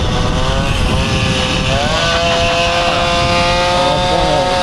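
An MBK scooter fitted with a Stage6 kit engine runs loud and close, its buzzing two-stroke note holding high and wavering up and down as the throttle shifts, with a steady rush of wind throughout.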